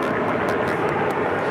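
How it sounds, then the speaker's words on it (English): United Airlines Boeing 757-200 taking off at LAX, its engines a steady, broad roar heard from a distance without any talk. "This is United Airlines 2609 taking off to Boston on a"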